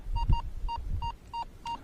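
A Rutus Versa metal detector sounds its target signal over a copper coin during a search on the Dnieper, a series of six short, evenly spaced beeps at the same pitch, close and clear over faint ground noise and handling thumps.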